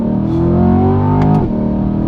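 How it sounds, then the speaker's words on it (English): A sports car engine is held close and loud, its steady growl dropping in pitch on a downshift before climbing again on an upshift within a couple of seconds, with no voices. "So like I'll downshift right here, and then I'll upshift."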